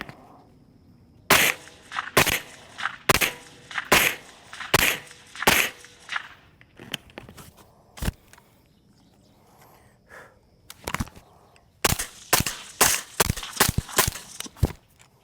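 Suppressed rifle shots with M855 green tip ammunition at a range, a string of about a dozen sharp cracks fired in uneven bursts with short pauses, loud and close with no talk between them.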